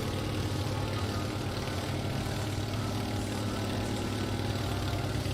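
A propeller airplane engine idling in a flight simulator game, a steady, continuous mid-pitched drone with even rumble throughout and no talking over it.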